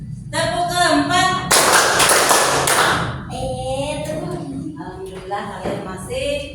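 A class of students performs a rhythmic clap game, producing a loud burst of group clapping that ends sharply, followed by a teacher talking.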